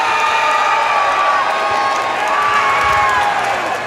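A crowd at a Ballpark Village fight event cheers and whoops for the winner, a loud, continuous roar of many voices with scattered shouts and some clapping throughout.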